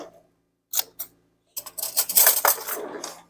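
Metal cutlery and utensils clatter and rattle nearby as a big spoon is fetched in a kitchen, with a few sharp clinks followed by a longer jangling rummage and no talk.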